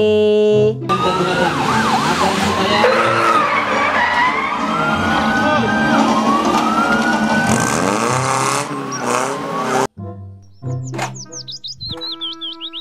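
A toy police car siren wails in loud, warbling electronic tones that run steadily for about ten seconds, then break into shorter, chirpy bursts of toy sounds near the end.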